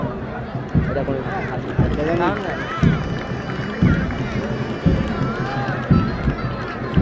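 Parade contingent from a school marching toward the salute stage at a Victory Day parade in a stadium, with steady rhythmic footfalls about once per second under ongoing crowd noise and a public address voice.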